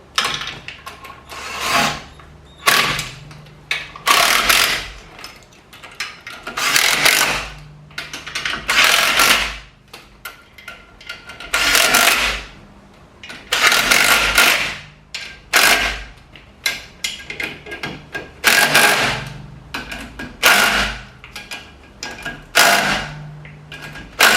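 Bolts are run in on a Honda all-wheel-drive clutch with a hand wrench, giving bursts of close metallic ratcheting and clicking separated by short pauses, fairly loud with no talk.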